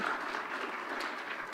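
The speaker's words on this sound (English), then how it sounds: "You can clap." Audience clapping at a talk on prayer, a soft, fairly distant patter of many hands held at a steady low level for a moment, with no speech on top.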